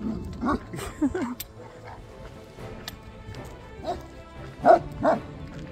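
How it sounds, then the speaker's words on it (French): Several dogs near a farm in Greece bark and yip in scattered bursts, some close and loud, others farther off, with a few people talking softly in between. "ça peut être intimidant si on a peur des chiens"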